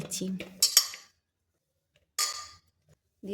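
Potato and pumpkin pieces tumble into a pressure cooker in two short bursts of clattering knocks against the metal, separated by a long silent gap.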